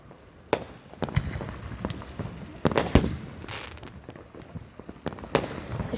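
Fireworks at a firework air show burst in a steady run of sharp cracks and pops, some loud and close, others distant, with no voices.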